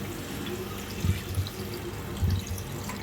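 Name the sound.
water poured into chicken broad bean curry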